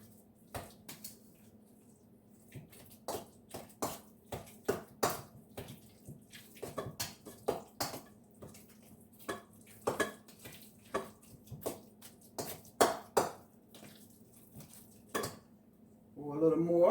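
Potatoes being mashed in a pot with evaporated Carnation milk added a little at a time, giving repeated clanking and scraping of a masher against the metal pot in uneven bursts, with a low steady hum underneath.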